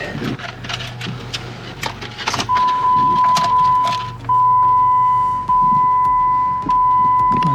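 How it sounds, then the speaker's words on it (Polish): A used car is inspected at a Copart auction yard in Trenton: keys jangle and clicks are followed by a steady chime, then the engine starts and settles into a loud, close idle. "Spróbujmy go zapalić."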